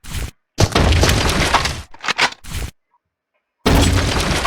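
A bomb goes off in the video game Zombotron, a loud crashing, cracking burst with debris-like breaking noise, followed by choppy bursts, a sudden silence, then another loud blast.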